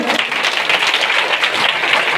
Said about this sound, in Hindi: महिमा के लिए ताली बजाएंगे